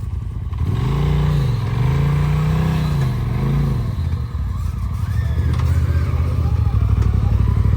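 An off-road vehicle drives through an offroad park, its engine revving and rising and falling in pitch up close, with clattering over the terrain and a voice speaking partway through.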